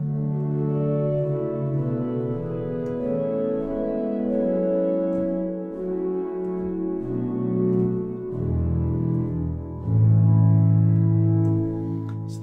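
Pipe organ with all its flute stops drawn together, giving a warm, full, sustained chordal sound that moves slowly through changing harmonies, played alone without talk.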